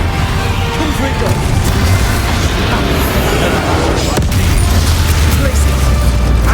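Dense, continuous game combat noise from Hogwarts Legacy with a Confringo fire spell blast: loud booms and crashing impacts over a steady low rumble, with a sharp hit near the four-second mark and speech-like voices mixed in.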